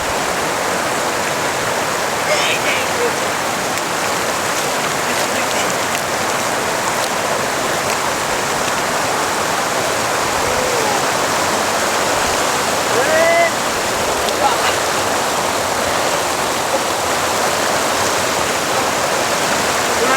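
Water of the Chitravathi river in Anantapur, Andhra Pradesh, rushing and bubbling in a steady, loud broadband roar that stays constant and close throughout, with only faint hints of anything else beneath it.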